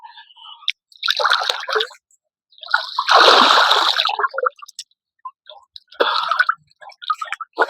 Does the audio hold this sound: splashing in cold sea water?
yes